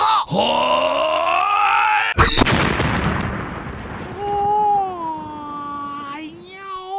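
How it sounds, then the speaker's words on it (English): A burst of cocaine blowing out of a shoe into someone's face in a comedy sketch, one sudden loud pop followed by a hissing wash, framed by strained groaning voices before and after. "the cocaine from your shoe exploded in his face"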